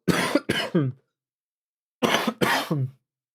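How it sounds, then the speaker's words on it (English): Two bursts of harsh coughing, each a quick cluster of three coughs, close to the listener with a short silence between them. "that's like my first cough the whole 2 hours"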